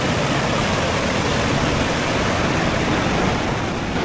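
Hurricane-driven water and surf in Hawaii, a dense, unbroken roar of rushing water and wind, loud and constant for the whole stretch with no voices.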